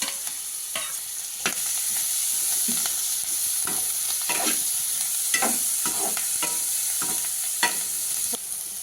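Onions browning in butter crackle and sizzle continuously while a spoon stirs and scrapes the pan in frequent irregular strokes, close up and alone without any voices.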